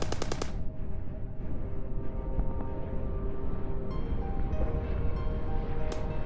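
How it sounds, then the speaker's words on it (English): Dense, sustained gunfire, rifles fired blind into smoke during a battle, a continuous rolling roar of shots with a sharp burst at the start, loud and close throughout. "They're firing into the fucking smoke! Firing blind."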